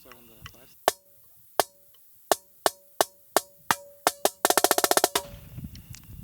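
Crisp snare strokes land one by one at a steady pace, speeding up, then break into a fast burst of rapid hits before a voice begins speaking.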